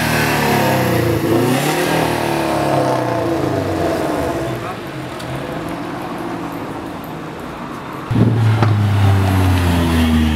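A Subaru car revs hard on a city street during a car-spotting outing, its engine rising and falling loudly and surging again near the end, with people talking over it.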